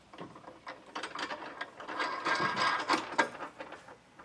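A flange nut is threaded by hand onto a bolt during a Class III trailer hitch install on a 2023 Ford Transit T250, giving soft clicking, ratcheting metal scrapes in an uneven close-up stream.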